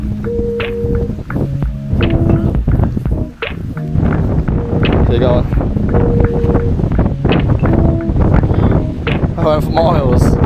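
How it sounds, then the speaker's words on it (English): Strong gusting wind roars steadily against the microphone nearly 2,000 feet up on Kinder Scout in the Peak District, while voices speak over it, briefly dipping before surging again. "For miles, it's so windy."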